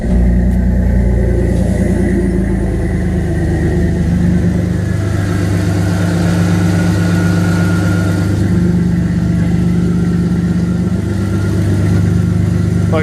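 A turbocharged Dodge Dakota engine runs close by at a loud, steady idle, a low rumbling drone that holds evenly throughout with no speech.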